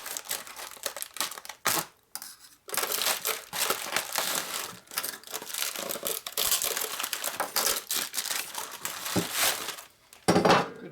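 Packaging from an eBay parcel crinkles and crunches in bursts of rustling, tearing and crushing, close by, with brief pauses between handfuls and no talking.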